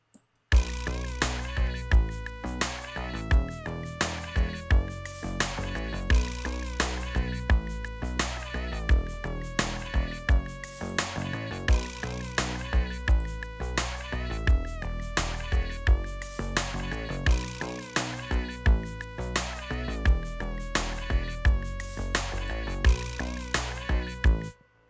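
A synth lead melody in FL Studio, sent through Fruity Convolver reverb, plays over a dense hip-hop beat with heavy bass and drums, the lead carrying a spacious reverberant tail, loud and continuous with no talking.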